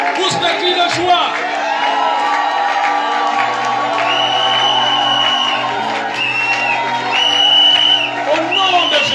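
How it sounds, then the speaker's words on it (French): A church congregation breaks into loud shouts, whoops and cries of joy, a dense overlapping crowd roar with raised voices held throughout. "Pousse les cris de joie."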